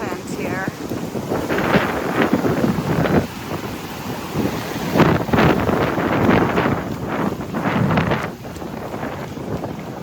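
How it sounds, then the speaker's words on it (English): Strong wind buffets the microphone on a beach at Lido as the tide comes in, with surf rolling and breaking underneath in loud, continuous gusts; a voice talks briefly. "Super windy."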